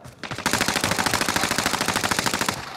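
Automatic gunfire in a shooter video game rattles out as one loud, fast, evenly spaced burst lasting a couple of seconds, close and dominant with no talk over it.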